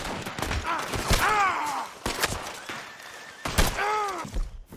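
Gunfire in Red Dead Redemption 2, several loud sharp shots in quick bursts with echoing tails, mixed with shouting voices and a whistling swoosh.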